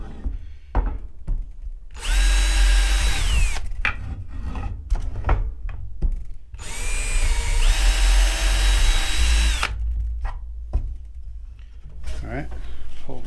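Power drill boring holes through a board inside a garden shed, two sustained whining bursts a few seconds each with clattering handling noise between, close and loud, with people talking.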